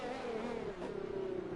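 Race car engine in an F1-style racing video game, held at a steady high drone along the main straight with the DRS open, loud and continuous with a slight pitch sweep midway and no talk.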